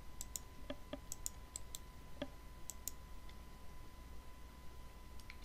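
A handful of sharp, faint computer mouse clicks, some in quick pairs, sound at irregular intervals over a low steady hum, with no talk.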